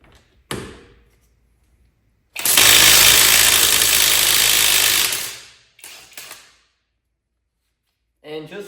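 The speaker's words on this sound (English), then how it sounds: "if it can take off lug nuts, it can do anything that I want it to do" A cheap Temu impact wrench with a 22mm impact-rated socket hammers at a lug nut in one loud, dense burst of about three seconds, followed by a shorter rattling burst.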